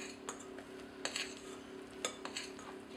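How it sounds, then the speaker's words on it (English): A spoon gently stirs chocolate cake batter in a bowl, producing soft, quiet scraping with a few faint clinks against the bowl's side, steady under a low background hum and without any talking. "Gently stir, and you're kind of doing a big scooping motion to"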